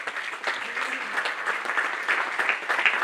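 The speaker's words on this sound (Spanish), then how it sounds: "Denle un aplauso a Cristo." A church congregation claps together in a steady, dense patter of many hands that holds throughout at moderate loudness, with faint voices mixed beneath the applause.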